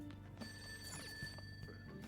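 Payphone ringing in the Persona 5 video game: a steady electronic ring tone held throughout under a low musical background, no talk.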